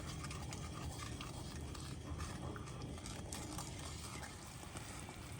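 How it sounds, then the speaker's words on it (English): Pot of syrup candy mixture for a praline snack being stirred as it comes to a boil, a steady bubbling, sizzling hiss with faint scraping throughout, no talking. "So let's just keep stirring."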